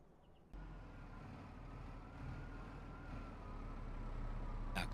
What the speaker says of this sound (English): Now, can you guys hear that tractor?